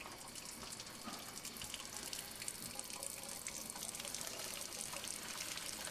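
Boiled pasta water poured from a large pot into a sink, a continuous loud rushing and splashing gush that holds steady throughout.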